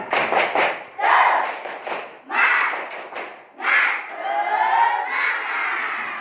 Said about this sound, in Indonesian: Sekarang coba tepuk semangat dulu.